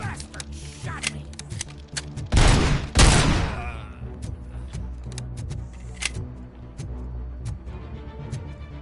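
Gunfire in the video game RoboCop: Rogue City: a loud, dense burst of shots in the middle of the clip, set against a steady game soundscape with scattered sharp clicks and impacts before and after, under talk.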